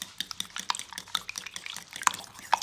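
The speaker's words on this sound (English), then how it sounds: "you're just going to take a whisk and break apart all your eggs" Eggs whisked with a sprinkle of xanthan gum for a keto chile relleno casserole, giving quick wet clicks and sloshing taps against the bowl in an irregular, close rhythm with a few sharper clinks.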